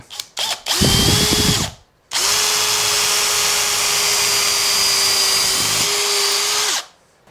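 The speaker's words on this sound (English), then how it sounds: "Now I'm going to want to drill all the way through my outer two holes" A power drill whines loudly at a steady pitch in two long bursts, with a short pause between, grinding through a Les Paul-style guitar body up close.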